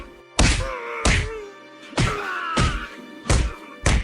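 Cartoon-style beating of a man in a Hindi animated moral story: six heavy, punchy thuds land at uneven intervals over about four seconds, with groaning, pained vocal tones between the blows.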